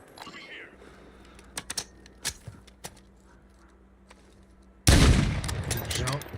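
Gunfire in the Warzone / MW3 video game, with sharp scattered shots and short bursts, followed by a loud sustained barrage near the end, while a player talks over it.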